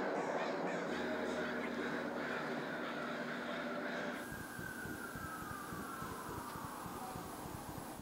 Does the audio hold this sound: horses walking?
no